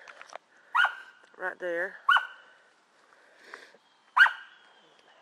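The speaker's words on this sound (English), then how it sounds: "these stupid dogs. They're not barking as much." Small dogs barking outdoors in a garden, a few sharp barks and yips spaced across the moment, mixed with a person talking nearby.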